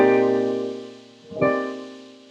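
A sustained jazz chord voiced with a major third stacked above the 11th rings out and slowly decays, then is struck again for a second fresh attack, heard alone and close.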